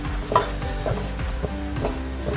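Mushrooms (button mushrooms) frying in a pan as their released water cooks off, a steady low sizzle with occasional soft stirring scrapes and taps, close and continuous, no voices.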